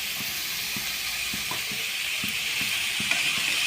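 Chilli powder and garam masala frying in a pan for momo filling, a steady close hiss and sizzle with faint regular ticking underneath.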